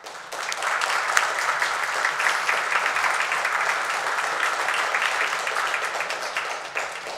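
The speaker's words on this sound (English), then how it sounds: "give a round of applause for your mentors, instructors, therapists" A standing audience at a college commencement ceremony claps in a sustained, dense round of applause that holds steady and loud for several seconds with scattered sharper individual claps.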